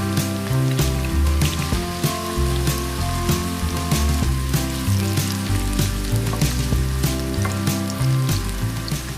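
Continuous crackling and sizzling of puris deep-frying in hot oil, close up and steady, with occasional bubbling pops and no talking.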